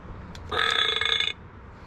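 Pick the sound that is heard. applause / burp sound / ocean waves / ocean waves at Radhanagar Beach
burp sound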